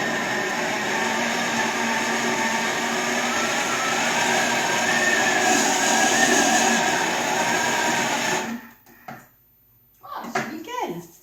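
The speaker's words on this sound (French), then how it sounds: "Et je mixe à nouveau" A kitchen blender mixes chocolate cake batter with butter, a loud steady whirring drone running for about eight seconds before cutting off, followed by a brief restart burst and someone speaking.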